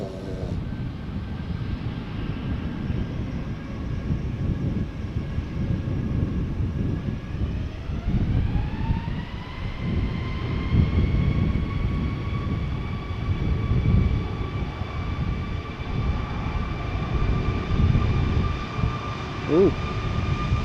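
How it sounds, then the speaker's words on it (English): Embraer 190 airliner at Amsterdam Schiphol Airport, bound for Hamburg, its jet engines giving a continuous close rumble with steady whining tones that climb in pitch about a third of the way through and then hold. "The airplane behind it is an Embraer 190, which will be going to Hamburg."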